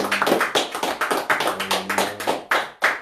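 A congregation in a French-speaking church claps in a loose, fairly quick rhythm of distinct hand claps with short gaps, moderately close and not very loud.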